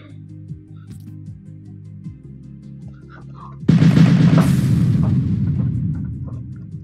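A bomb goes off in the Roblox game Build a Boat for Treasure, a sudden loud boom after light clicking and tapping, its rumble lingering and slowly fading for several seconds.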